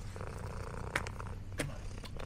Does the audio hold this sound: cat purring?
yes